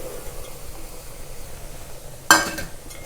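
Wheat flour tipped into hot ghee in a pan sets off a sudden sizzling, scraping burst near the end, after a stretch of quiet kitchen hush.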